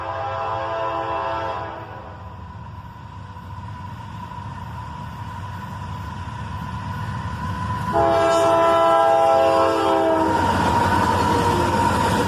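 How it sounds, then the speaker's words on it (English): Pair of AC-44CW locomotives leading a loaded iron ore train give a horn salute: a steady rumble of the passing train with a multi-tone horn blowing, swelling louder and longer toward the end, close by. "a friendly engineer gives us a horn salute as a pair of AC-44 CWs lead this loaded iron ore train."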